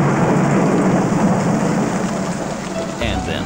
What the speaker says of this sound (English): But when it rains, it pours.